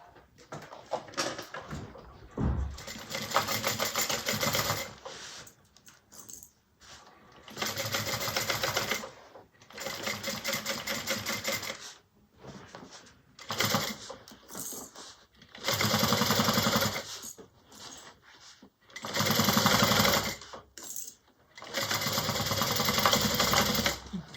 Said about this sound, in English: I'm going to go ahead and sew this up at 3/8 inch.